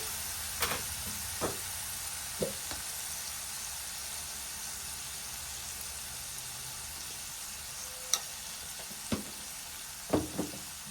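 Ginger, garlic and turmeric frying in a pan for capsicum masala curry, a faint continuous sizzle broken by a few sharp utensil taps and stirs, with no voices.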